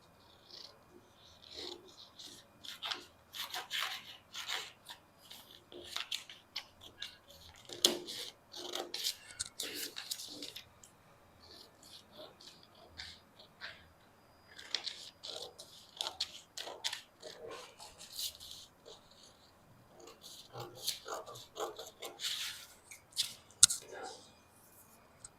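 Scissors snip and rasp through fabric while cutting out a corset top, a run of short crisp close-up cuts in bursts with brief pauses between them.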